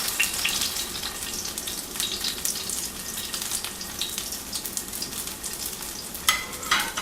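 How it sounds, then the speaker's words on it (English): Ahi tuna sizzles and spatters in a hot pan, a steady crackling fry with occasional sharper pops, no talking. "when you're frying tuna, especially, you want to make sure it's treated like a piece of meat"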